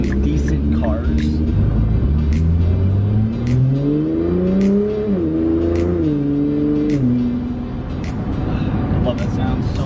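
A Nissan GT-R Premium's engine revs up with a steadily rising pitch and then settles back, heard close and fairly loud with people talking over it.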